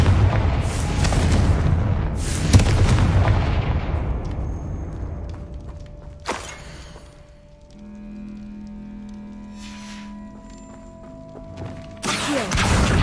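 Confringo blasting spells explode in Hogwarts Legacy, several loud booming bursts with long rumbling decays, the first ones close together, then a sharp crack, a quieter humming pause and a final blast.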